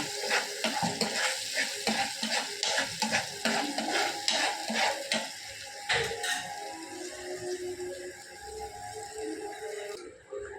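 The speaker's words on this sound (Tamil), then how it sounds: "பூண்டு துவையல் வந்து ரெடி ஆகிட்டு இருக்கு" Garlic chutney frying and sizzling in a pan while a spoon stirs it in quick, repeated scrapes, close and steady, with no talking.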